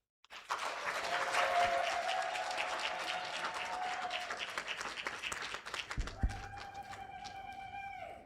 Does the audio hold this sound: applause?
yes